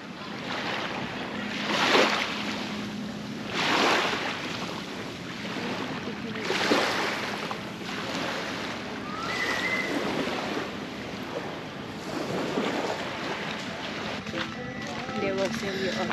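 Waves break on a long beach in Bohol, Philippines, in repeated surges every couple of seconds. Wind buffets the microphone throughout.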